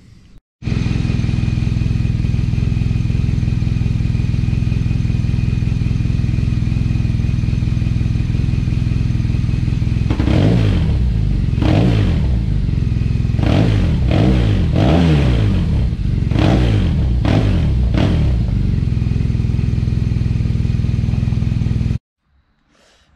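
BMW R nineT motorcycle with its stock exhaust, idling loudly and steadily up close, then blipped through a quick series of sharp revs before settling back and cutting off.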